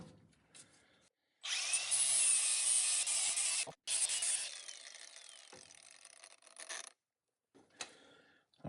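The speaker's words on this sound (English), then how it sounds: "I think I'm just going to do a little flapper wheel action there" A flap wheel grinds steel on a '52 Chevy swapped with an S10 chassis, a loud rasping whir in two long bursts separated by a short break, followed by quieter scrapes and handling noise.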